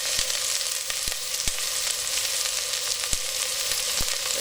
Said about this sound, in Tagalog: At habang ginigisa natin yung bawang at sibuyas,